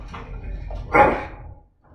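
A dog in the Dragon Age: Origins video game gives a short whimpering yelp, one louder cry in the middle of a brief, close burst.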